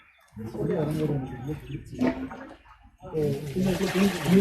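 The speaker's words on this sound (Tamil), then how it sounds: "இதை ஓப்பன் பண்ணிங்கன்னா ஃபில்டர் தண்ணி இதில் வரும்." Filtered water runs out of a homemade filter system layered with coarse and fine gravel, making an uneven gushing, splashing flow in several bursts with voices faintly mixed in.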